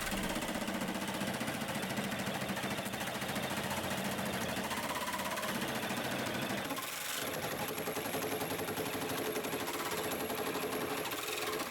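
The last of several arc-shaped segments being cut for a project. Loud, continuous machine cutting noise fills the whole stretch, with a brief change in tone midway and no talking.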